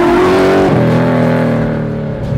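A Pro-Touring 1965 Fastback Mustang with a Boss 302 engine revs and shifts as it pulls away, its steady drone dropping in pitch and then climbing again, close and loud with no talking.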